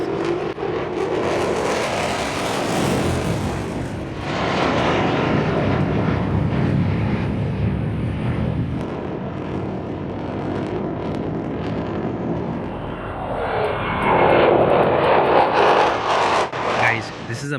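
Fighter jets roar overhead in a small, congested Cypriot city, a sustained loud rumble that swells and recedes across the passage and surges again near the end, with someone talking over it throughout.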